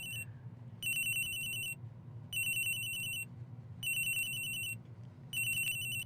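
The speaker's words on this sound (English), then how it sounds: "The ring's coming from here, sir." A cell phone ringtone in Ace Attorney Investigations: Miles Edgeworth rings from a locker in four evenly spaced electronic trills, each lasting about a second, clear and bright over a low steady background hum.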